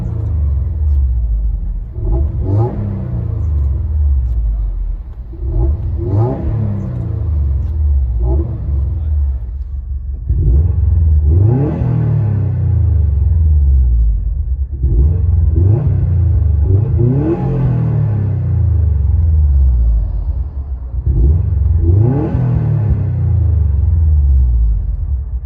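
Heard from inside a Subaru WRX STI 2.5L with a resonator-deleted exhaust, a deep rumbling engine revs up repeatedly in surges, each rise climbing in pitch then falling back to a low idle.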